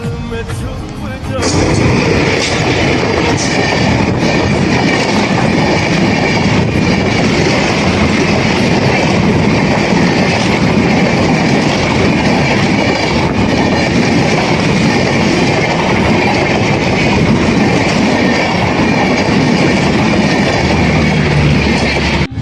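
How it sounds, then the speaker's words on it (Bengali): A train passes close and loud, its rolling rumble and rhythmic clatter of wheels on rails sustained steadily for the whole stretch. "আর এখন ট্রেন আসতেছে"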